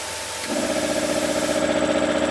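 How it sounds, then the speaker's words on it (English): A cast iron 3HP piston compressor pump starts up and runs with a steady mechanical drone and rapid rhythmic pulsing, close and moderately loud, with no voices over it. "So now we can hear that the pump's working. The machine started up."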